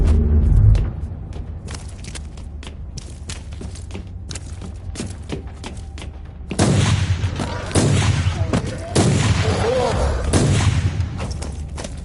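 Grenade explosions go off in Warhammer 40000 Inquisitor – Martyr on PlayStation 5 amid steady gunfire. A dense, continuous barrage rattles throughout, and heavier rumbling booms surge in from about the middle onward.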